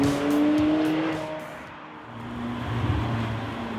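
McLaren 720S engine fitted with the sport exhaust gives a loud, rising howl and rasp that eases off, then swells again as the car passes on the road.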